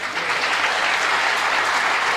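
An audience claps loudly and steadily, a dense wash of many hands heard close, with no voices.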